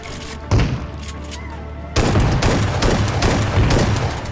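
Shotgun blasts fire in a multiplayer shooter video game: a loud boom, then a dense run of rapid gunfire and heavy shots that carries on without a break.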